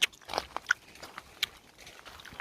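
Someone bites into crunchy unripe garden fruit, giving a few sharp, close crunches in the first half before fainter chewing trails off; no talking.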